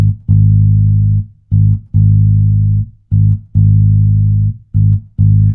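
Deep bass guitar notes played in a steady rhythm, long held tones alternating with short ones, clean and loud with brief gaps between.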